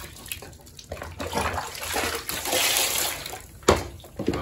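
Water splashing and sloshing in a bubbly bath as toy animals are washed, with irregular splashes building in the middle and a sharp splash near the end, close by and without talk.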